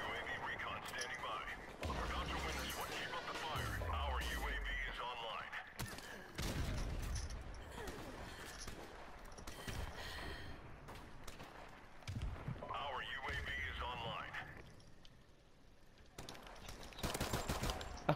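Rapid pistol gunfire in a first-person shooter video game, clusters of sharp shots and bursts scattered throughout, mixed with game sounds and a person talking.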